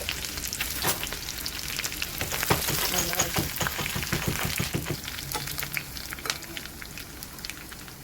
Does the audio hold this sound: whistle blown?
no